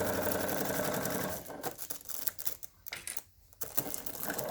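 A sewing machine stitches crinkle material for a dementia lap pad block, running in a steady, continuous whir at first, then breaking into shorter bursts of stitching with brief pauses, close by and with no talking.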